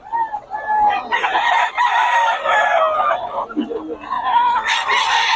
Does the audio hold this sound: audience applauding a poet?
no